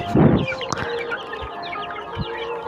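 One-month-old chickens being raised on a small farm cluck repeatedly at close range, with a louder burst of fowl calls at the start followed by scattered clucks over a steady background.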